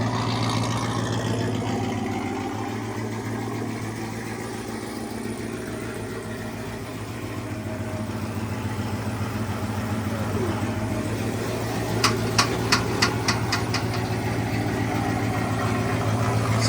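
A lifted truck with a Whipple-supercharged engine idles steadily with a deep, even rumble and a constant supercharger whine, then a short series of sharp clicks taps over it.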